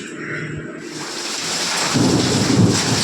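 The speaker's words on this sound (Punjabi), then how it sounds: "ਮੇਰੀ ਵੀ ਬਿਜਲੀ ਵੀ ਬਹੁਤ ਕੜਕਦੀ ਆ ਮੀਂਹ ਐ" Thunder rumbles deeply and builds steadily while rain pours down, a loud, continuous storm roar filling the space.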